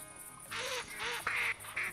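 Ducks quack in TheHunter Classic during a duck hunt, a string of loud, close, raspy calls repeating in quick bursts, with mallard and gadwall among the birds.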